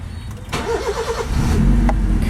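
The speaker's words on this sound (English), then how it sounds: "first let's turn on the car." A car engine cranks and catches, a short burst of starter noise followed by a steady low idle rumble that continues to the end, close and fairly loud.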